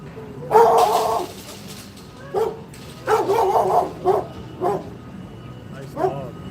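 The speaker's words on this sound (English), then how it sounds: "Nice dog." Several dog barks and yips come in bursts, a loud one near the start and others spread through, over low background noise and some talk.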